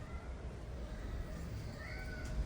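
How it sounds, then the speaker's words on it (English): Kittens at an animal sanctuary meow a few times, faint and high against a steady background hum, with no talking. "Two beautiful little kitties."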